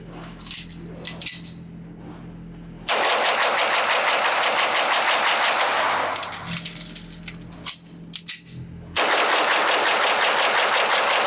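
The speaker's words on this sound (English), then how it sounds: "can I shoot this pistol fast? Well, I can shoot it pretty fast" A stainless Beretta 92FS Inox pistol fired in fast strings at a range, sharp close shots in long rapid bursts with a pause between strings, plus faint metallic clinks.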